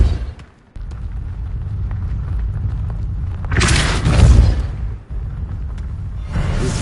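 The Depulso spell cast in the video game Hogwarts Legacy, a low booming rumble that swells into a bright whooshing burst midway, then fades as the background drone returns.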